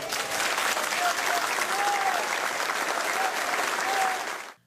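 Mourners at Arena Grêmio applaud during the farewell for Chapecoense defender Felipe Machado, a steady dense wash of clapping with faint voices and a tonal sound within it, cutting off sharply at the end.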